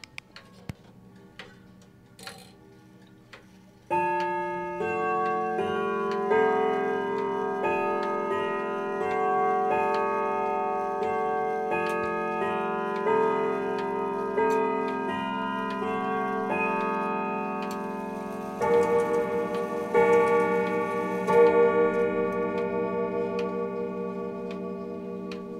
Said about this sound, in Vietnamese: em xin được phép thử qua cái âm thanh tiếng chuông của chiếc đồng hồ, cũng như là khoe tới các bác cái bộ máy của chiếc đồng hồ này